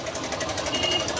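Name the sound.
Bajaj Pulsar 150 engine timing chain rattle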